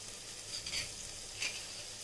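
Onions sizzling quietly in an electric cooker, a faint steady frying hiss with a couple of soft crackles and no talking.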